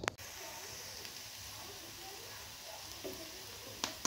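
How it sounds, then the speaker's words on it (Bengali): Chopped onion and chili fry in hot oil in a home kitchen, giving a faint, steady sizzle with a few small clinks and taps of a utensil. There is no talk over it. "তেলের মধ্যে আমি পেঁয়াজ মরিচ কুচি করে ভেজে নিচ্ছি"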